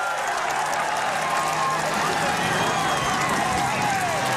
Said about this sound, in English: We are looking at another massive crowd here.